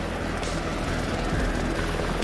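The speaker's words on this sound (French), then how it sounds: "l'hélico va changer de point de vue, ce qui permettra de comparer puis de confirmer la localisation" Helicopter flying overhead during a locating mission, a steady broadband rotor and engine roar held loud and continuous throughout, with no voices.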